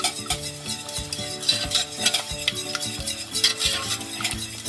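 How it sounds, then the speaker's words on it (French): A whisk beats béchamel sauce in a pan with fast, rhythmic metallic scraping and tapping against the sides, close and steady, no voices. "Il faut bien fouetter pour bien avoir des grumeaux dedans"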